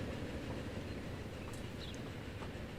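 Locomotive hauling carriages through a mountain route in Transport Fever 2, a steady low rumble of rolling stock running continuously at moderate distance, with faint high ticks and no voices.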